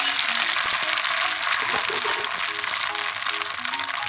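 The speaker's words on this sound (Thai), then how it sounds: "เดี๋ยวเราก็จะไปผัดเส้นแล้วนะคะ" Wide rice noodles stir-fry in hot oil with a dense, even hiss. A faint melodic tone drifts underneath.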